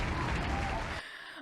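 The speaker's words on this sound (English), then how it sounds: "the crowd goes wild" A crowd cheering and applauding as a sound effect, loud and dense for about a second before cutting off abruptly into near silence.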